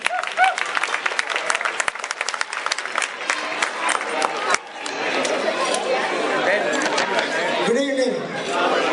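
Audience applause with clapping and crowd chatter fills a hall as a speaker is welcomed at a Sewa International event, dense and sustained throughout, fading slightly toward the end with a brief voice near the close.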